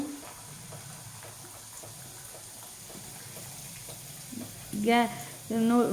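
Malpua batter frying in hot oil for Mangalorean malpuri, a soft, steady sizzle heard up close with a few louder bursts toward the end.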